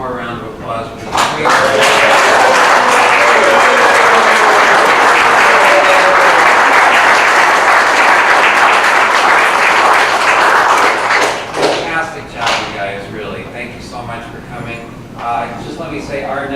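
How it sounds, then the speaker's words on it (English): A candidate forum crowd gives a loud, sustained round of applause that swells, holds for about ten seconds, then thins into scattered claps with murmuring voices. "Let's have one more round of applause for the"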